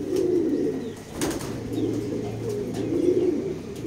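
A male pigeon at a pigeon loft coos in repeated low, throaty phrases close by, with a brief burst of wing flapping partway through.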